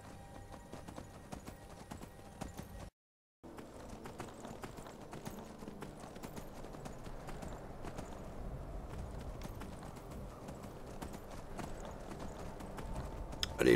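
Horse hooves clip-clop and gallop at a steady rhythm in the video game Skyrim Dawnguard, a continuous close drumming broken by a brief silent gap, growing slightly louder toward the end.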